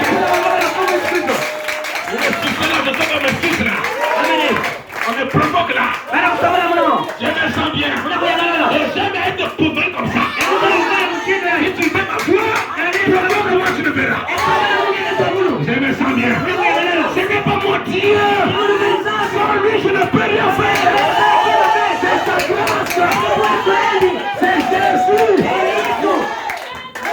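A church congregation at a deliverance service roars with sustained cheering, whooping and applause, a dense and loud crowd noise that continues without a break and mixes with shouted voices.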